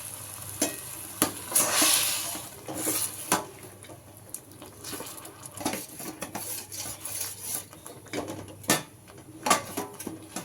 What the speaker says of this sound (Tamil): நல்லா கிளறலாம்.